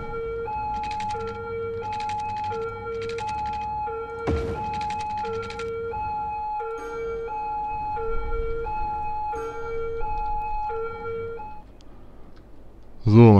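An emergency vehicle siren in the game Cities Skylines repeats a steady two-tone wail at close range, with someone talking over it midway and a brief louder burst at the end.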